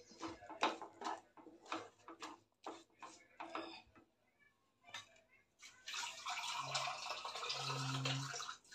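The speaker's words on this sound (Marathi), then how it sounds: "आता ह्यामध्ये पाणी घालते" Clinks and scrapes of a spoon in a pan of kadhai paneer gravy are followed by a brief pause. Water is then poured in as a steady, close, rushing splash for the last few seconds.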